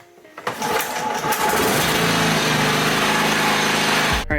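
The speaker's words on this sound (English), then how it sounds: "we'll try and start it." A John Deere lawnmower engine starts after a brief pull and settles into a loud, steady running drone that holds close and constant, then cuts off abruptly at the end.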